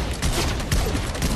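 Rapid, dense gunfire from the Fortnite video game crackles loudly in a continuous burst, with several overlapping shots filling the whole moment.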